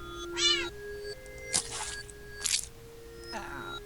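A cat meows several times in short, separate calls, some rising into drawn-out wails, with quiet pauses between them and no talking.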